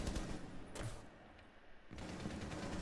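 Gunfire in the tactical shooter game Rainbow Six Siege: dense, noisy bursts of shots fill most of the clip, with a brief lull in the middle before the firing resumes at a steady, close level.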